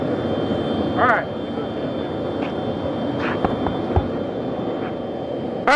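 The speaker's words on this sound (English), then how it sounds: "can y'all hear me over the jet?" Steady jet engine roar fills the air at Kennedy Space Center, a loud continuous wash with people speaking over it in brief bursts.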